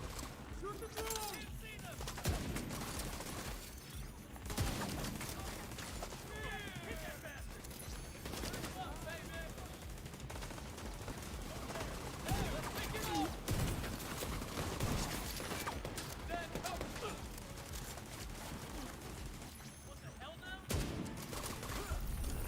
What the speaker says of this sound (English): Shotguns with fire ammo are just devastating.